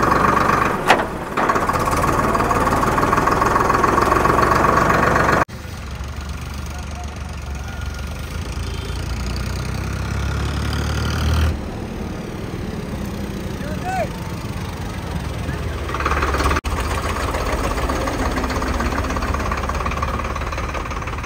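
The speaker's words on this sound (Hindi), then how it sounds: "तीसरे के गियर में उठाया ये ट्रैक्टर" A Farmtrac 60 F41 tractor with a 55 hp non-turbo, non-CRDI engine runs in third gear, giving a continuous mid-pitched engine drone with some knocking vibration. A voice can be heard talking over it.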